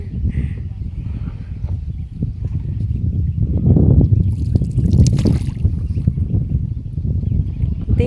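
A boat moves along a river in rural Bangladesh, giving a steady low rumble of water and hull with wind buffeting the microphone and faint voices in the background.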